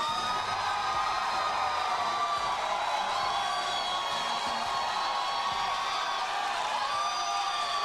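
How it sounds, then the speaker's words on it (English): A crowd cheers and whoops for MMA fighter Thomas Ruiz after a split decision at a fight event, with steady distant applause and shrill whistles and shouts held at an even level throughout. "All those who feel like Thomas Ruiz won the fight, round of applause"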